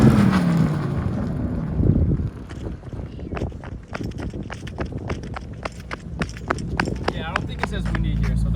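Gusts of wind buffet a microphone with low rumbling thumps, mixed with scattered footstep-like knocks and faint background voices, outdoors beside a 2019 Porsche Panamera.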